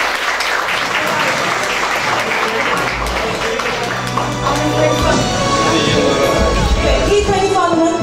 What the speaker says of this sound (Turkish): Alkışlarla.